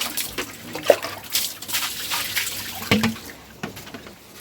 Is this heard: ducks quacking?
no